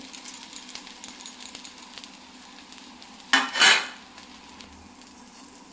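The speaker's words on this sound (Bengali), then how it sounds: "একটু নাড়াচাড়া করে আমি নামিয়ে নেব।" Pointed gourd mash being stirred with fried chili, onion and salt in a pan, soft low sizzle and faint scraping, then a sharp louder clatter of a utensil against the pan near the end.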